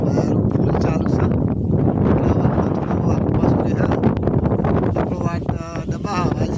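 Strong wind blows outdoors and buffets the microphone with a loud, continuous roaring rumble, while a voice talks underneath it.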